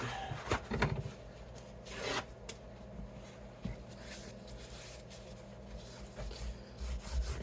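Howard's Feed-N-Wax is rubbed into the wood of a Gibson Slash Les Paul guitar, producing quiet, scratchy rubbing strokes in irregular bursts with pauses between them.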